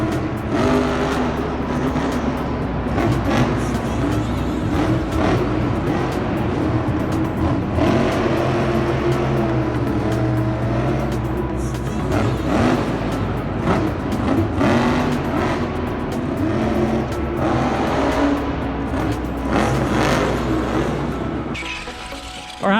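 A Megalodon Storm RC Monster Jam toy truck whines continuously as it spins donuts through slushy snow and mud, a steady buzzing motor drone with wet churning texture.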